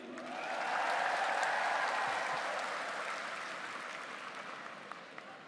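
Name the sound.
audience applause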